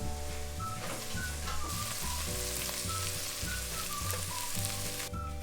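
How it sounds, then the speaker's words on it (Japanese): Soffritto and wild boar thigh meat sauté slowly in a frying pan, a continuous close sizzle and crackle with a faint underlying hum, steady throughout with no talk. "ソフリットをゆっくり炒めながらもも肉を炒めましょう"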